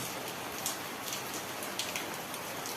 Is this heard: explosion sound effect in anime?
no